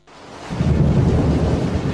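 A thunderstorm sound effect in a Thai AM radio announcement about severe weather: a deep, rolling thunder rumble fades in and swells to a loud, sustained roar, heard alone without any voices.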